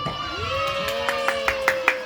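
Children clap in the tepuk satu clapping game at a Maulid Nabi gathering, a run of five evenly spaced group claps that grow slightly louder while a voice sings or talks over them.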